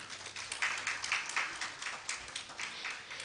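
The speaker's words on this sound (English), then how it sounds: "Please, a round of applause for him." An audience at the official launch event in Nigeria applauds Mr. Olanrewaju Tejuosho, with steady, moderately distant clapping from a crowd that fills the whole moment without any talking.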